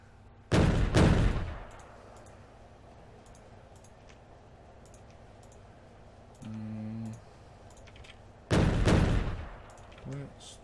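Artillery firing in the Factorio video game: two big booming shots, each with a long decaying rumble, roughly eight seconds apart, with short mechanical clicking tones between them and no talk over the blasts.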